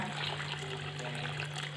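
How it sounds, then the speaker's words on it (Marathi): Clean water pours steadily into a pot of millet, a continuous close gushing splash with no break. "आता आपण या पातेल्या दुसरं स्वच्छ पाणी ओतूया"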